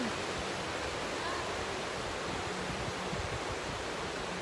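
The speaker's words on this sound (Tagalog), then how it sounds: "Dito naman ako sa tabing dagat. Andito yung dagat." Sea waves wash along the seaside as a steady, even hiss with no distinct breaks, moderately faint and continuous throughout.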